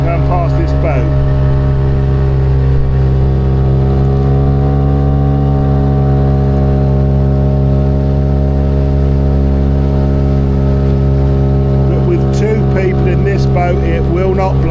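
Small 6 hp outboard motor boat, a Hangkai or Honwave T35 AE3, running continuously with a loud, steady engine drone close by while carrying two people and kit, pitch shifting slightly near the end.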